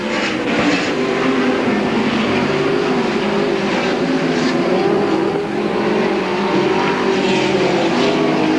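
Midget race cars at the 1990 Belleville Midget Nationals running nose to tail for the lead, a loud, continuous engine roar that stays dense and steady throughout with no clear pauses.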